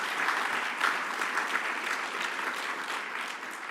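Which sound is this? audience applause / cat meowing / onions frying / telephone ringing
audience applause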